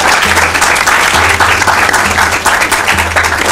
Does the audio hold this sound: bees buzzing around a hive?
no